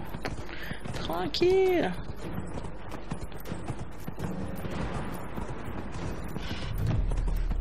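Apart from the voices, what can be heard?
horse hooves clip-clopping in Dragon Age Inquisition video game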